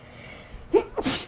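A single short sneeze bursts out close to a microphone after a quick intake of breath, against a quiet background.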